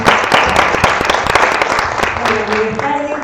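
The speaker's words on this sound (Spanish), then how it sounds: "Un fuerte aplauso para nuestra querida." An audience at a university talk in San Luis claps in a loud, dense burst of applause for a speaker, sharp individual claps standing out, before a voice begins speaking near the end.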